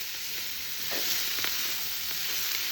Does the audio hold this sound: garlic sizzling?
yes